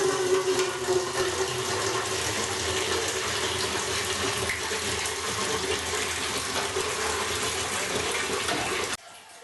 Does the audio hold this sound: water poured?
yes